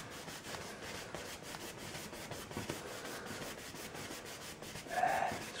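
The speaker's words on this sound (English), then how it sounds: "I'm just going to use crisscross strokes up in there" A paintbrush scrubs crisscross strokes across a canvas while painting northern lights over Alaska, giving a soft, close, rhythmic scratchy brushing that repeats steadily, with a slightly louder swipe near the end.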